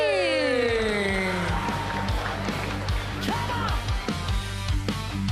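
A crowd at an Indonesian Independence Day parachute show cheers and whoops for landing skydivers, a dense continuous roar with scattered shouts and a rising whistle-like sweep at the start, fairly loud throughout.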